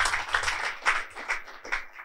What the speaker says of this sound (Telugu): ఈ విషయంలో మరొకసారి క్లాప్స్ కొడితే బాగుంటుంది